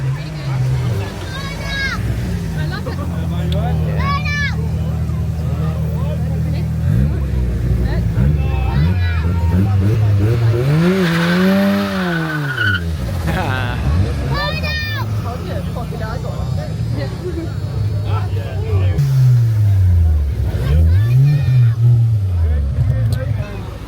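Old school car, an E30, doing a burnout at a car meet, its engine revving repeatedly with rising and falling pitch among a crowd of chattering voices.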